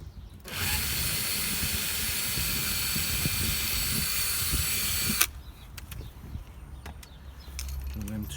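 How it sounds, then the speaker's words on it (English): A power drill runs steadily for about five seconds, drilling out screws in damp caravan furniture during a repair, then stops, leaving faint handling clatter and knocks. "I'll drill these two."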